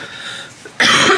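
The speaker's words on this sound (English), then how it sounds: "Still got a little bit of the COVID cough." A man's lingering post-COVID cough, one short harsh burst near the end after a quiet indoor pause, close and loud.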